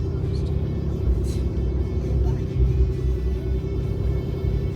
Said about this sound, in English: Check the traffic jam